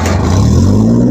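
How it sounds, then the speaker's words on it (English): The engine of a 12.5 kW generator on a manhole support trailer runs as a loud, close, steady low rumble with a constant droning tone throughout the short stretch. "fire the engine up there"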